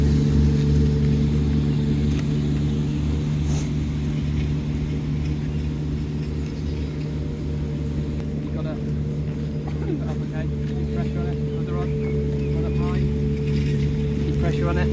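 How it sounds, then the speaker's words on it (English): A low, steady engine drone hums throughout, loud and constant, with faint wind buffeting the microphone. "excuse the noise in the background. Just a tractor."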